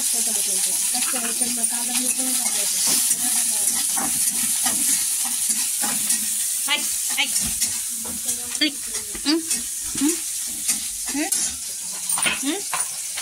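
Green chillies crackle and sizzle loudly in a pan for a semolina upma while a spoon stirs and scrapes throughout, with people talking over the frying.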